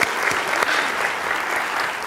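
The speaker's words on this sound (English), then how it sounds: "Can we clap again for those?" A lecture audience applauds guitarists after their performance: dense, steady clapping from a large crowd, fairly close and filling the whole stretch without a break.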